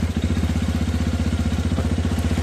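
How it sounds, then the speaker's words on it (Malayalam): A Hero Xpulse 210 motorcycle engine idles close by with a steady, rapid low thumping pulse that holds even and loud throughout, with no voices over it. "ഇനി ഞാൻ എൻജിൻ ഒന്ന് ഓണാക്കാം."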